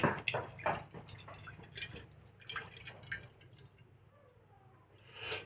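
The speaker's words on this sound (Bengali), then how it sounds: "দুধটা আমি এভাবে ঢেলে নেব" Milk is poured from a container, giving a close, wet dripping and splashing stream that starts strong and thins into sparse trickles, with no voices.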